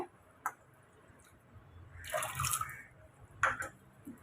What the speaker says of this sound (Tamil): பட்டாணி முங்குற அளவுக்கு தண்ணி சேர்த்துக்கோங்க